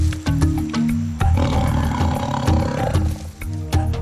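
A Bengal tiger in India roars: loud, deep, rasping bursts and growls close by, rising and falling over a few seconds, with no speech.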